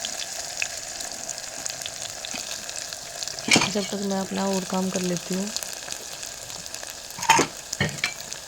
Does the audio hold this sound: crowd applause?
no